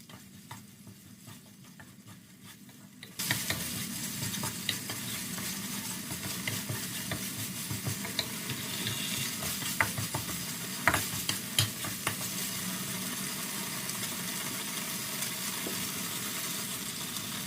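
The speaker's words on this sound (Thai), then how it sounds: "เติมหัวกะทิสดไปอีกรอบหนึ่ง ผัดต่อ จนกะทิแตกมันอีกรอบและเข้ากับพริกแกง" Coconut cream stir-fried with curry paste in a pan for a Thai chu chee sauce, beginning after a quiet moment as a continuous close sizzle with scraping stirring strokes and occasional clinks of the utensil.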